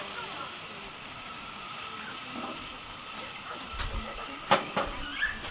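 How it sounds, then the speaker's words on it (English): Gravy of flour and stock boiling in a pot at a barbecue: a soft, continuous hiss and simmer, fairly quiet, with a few small pops and clicks toward the end. "Bring it to a boil, which it already does"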